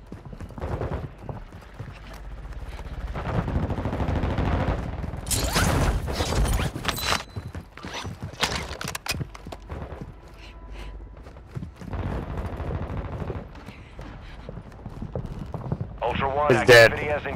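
Gunfire penetrating a wall in a shooter video game, with bursts of sharp shots and clattering impacts scattered through a busy stretch of game noise, mechanical clicks and footsteps, with a voice talking at points.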